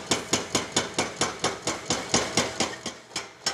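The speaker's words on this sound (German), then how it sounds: "Mühsam, aber unerbittlich bohrt sich der Abrissbagger in das alte Mauerwerk der ehemaligen Eisenbahnbrücke." A demolition excavator's pneumatic chisel pounds the old masonry of a former railway bridge, hammering in a steady, rapid rhythm of sharp, evenly spaced blows at moderate distance.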